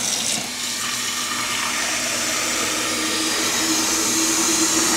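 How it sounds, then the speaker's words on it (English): Cold water pours steadily from a tap for several seconds as a constant, close hiss and rush of flow with no break and no talking. "Cold water."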